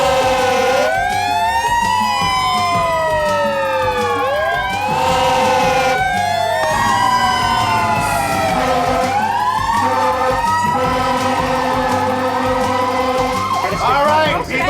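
A wailing emergency siren for an arriving ambulance at an accident scene, its pitch sweeping up and down continuously and loudly for the whole stretch, with a busy mix of background noise beneath.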